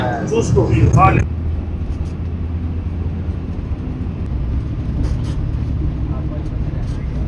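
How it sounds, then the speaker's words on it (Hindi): A bus carries riders toward the Haram in Makkah, with a steady low engine rumble and road noise throughout, and someone speaking briefly over it at the start. "ये अपना बस में आ गया।"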